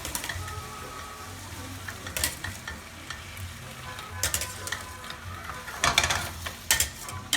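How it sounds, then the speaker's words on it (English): Short pasta finishing in a pan with pancetta, onions and peas, with steady sizzling and frying plus scraping and stirring bursts of the utensil against the pan, close and alone. "I'm finishing the cooking process actually in the pan"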